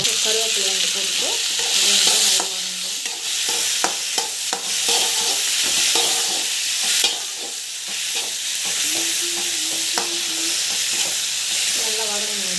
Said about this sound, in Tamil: டொமாட்டோ போட்டுட்டு நல்லா வதங்கிட்டோம். கருவேப்பிலை வந்து போட்டுட்டு